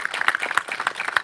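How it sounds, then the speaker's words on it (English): Audience applause at a gun violence prevention awareness event, a dense, steady patter of many hands clapping throughout the short stretch. "let's give them another round of applause"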